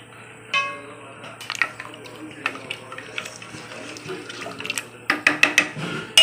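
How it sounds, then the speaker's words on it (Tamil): Water from a tumbler splashes into a pot of thick mutton bone kurma, with scattered drips and a few louder splashes and pours near the end, close by in a quiet kitchen. "குழம்பு ரொம்ப கெட்டியாக இருக்குது அதனால் இன்னொரு டம்ளர் தண்ணி சேர்த்துக்குவோம்"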